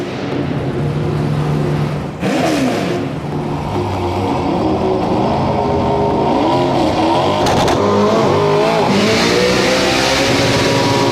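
A race car engine comes off the clutch and revs hard and loud, with rising and falling engine tones and brief gear breaks, no talking.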